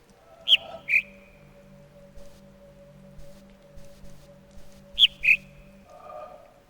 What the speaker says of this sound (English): there's a bird chirping